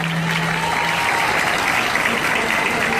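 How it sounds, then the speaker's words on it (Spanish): An audience at a Miss Ecuador candidate presentation in Naranjal claps in steady, dense applause that stays loud and continuous throughout. "nada más pido un aplauso para ustedes"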